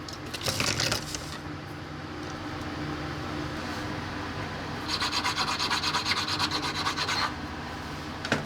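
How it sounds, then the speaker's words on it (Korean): Close, steady rasping as the inner hole of a knife handle is widened by filing, with a loud burst near the start and a brighter rhythmic rasping stretch in the middle, no voices. "이제 이 안쪽 구멍을 넓혀주면서 칼에 딱 맞게 이 구멍을 맞춰줄 겁니다."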